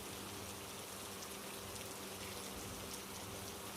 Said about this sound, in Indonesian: karena cuaca masih sering hujan, hujannya nggak pasti